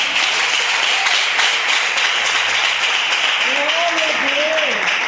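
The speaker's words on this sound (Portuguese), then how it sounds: "exalte o Senhor com as palmas" A church congregation claps steadily in praise during a worship service, with the dense clapping running throughout while a woman preacher's voice and some sung or sustained tones sound over it.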